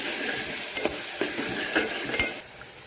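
Tomato rice masala sautés in a pan, a soft continuous sizzle broken by several brief scraping stirs of a spoon against the metal, fairly quiet and close, with no talking.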